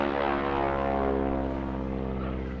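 Propeller aircraft flying at the English Riviera Airshow, a steady droning engine tone with strong harmonics, fairly faint and distant, slowly fading as it passes.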